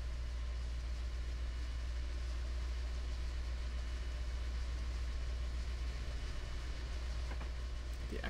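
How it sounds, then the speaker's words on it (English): Diesel locomotive engine working in Train Simulator 2017 on Marias Pass, alongside steam locomotive SP&S Northern 701: a constant deep low rumble with rolling rail noise, steady and unbroken, no voices. "Diesel working now. I feel like the diesel's just pushing the steam locomotive."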